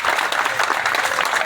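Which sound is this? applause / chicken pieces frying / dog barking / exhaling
applause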